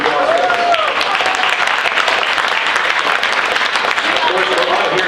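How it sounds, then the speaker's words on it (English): Loud, dense applause fills a strongman competition crowd honoring an injured athlete, steady and close throughout, with a voice speaking over it. "Let's give him a nice round of applause"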